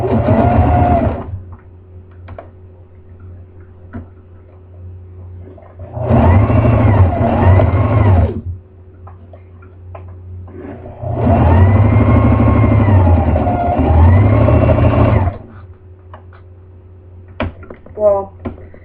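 A sewing machine stitches a long seam in two steady motorized runs, one short and one longer, humming close by with quiet pauses between them.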